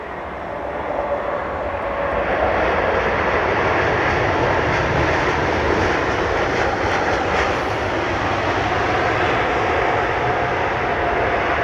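Simulated airliner engines in a flight simulator on a flight from Amsterdam Schiphol to London Heathrow produce a loud, continuous jet roar with a broad rushing hiss that holds steady throughout.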